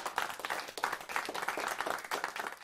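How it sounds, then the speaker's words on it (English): A small group keeps clapping in a quick, uneven patter, close and moderately loud, with no voices over it. "That's a long clap."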